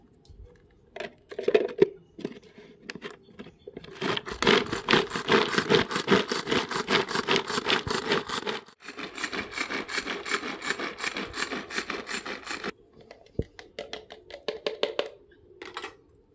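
A kitchen machine chops green chillies for a green chicken curry, giving rapid, loud, buzzing whirring in long bursts with short pauses between runs and a few clicks and knocks at the start and end.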